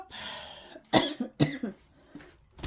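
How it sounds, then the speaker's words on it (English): A person coughs several times in short, close bursts, with a throat-clearing rasp, while wildfire smoke hangs in the air outdoors. "I am like constantly coughing"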